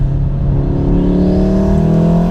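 A 500 BHP Stage 3 VW Golf R wagon accelerating hard, a loud, close, continuous engine drone rising steadily in pitch under load with no voices.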